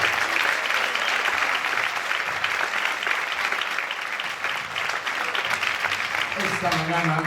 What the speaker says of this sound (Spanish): Un fuerte aplauso por este festival